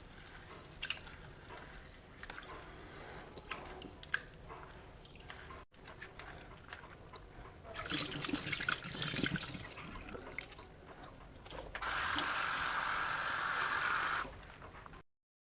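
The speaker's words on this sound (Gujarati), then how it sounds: "હવે આ મસૂર દાળ છે એને આપણે 2-3 પાણીએ ધોઈ લઈશું." Masoor dal (red lentils) being rinsed in water: soft sloshing and dripping with light clicks of lentils, then two louder bursts of rushing tap water being poured and drained, close and without talk.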